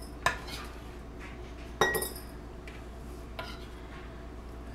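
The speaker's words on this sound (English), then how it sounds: "So now I'm gonna put a little bit of this garlic into each jar." Fermented garlic is spooned into jars, giving a few sharp clinks of metal on glass at irregular moments over a quiet background, with one louder strike near the start and another midway.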